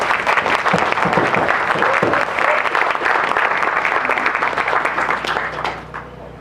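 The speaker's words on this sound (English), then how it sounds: "Could you give them a warm applause?" A gathering at a Wampanoag homecoming ceremony applauds warmly, steady dense clapping for several seconds with a low hum beneath, then fading off near the end.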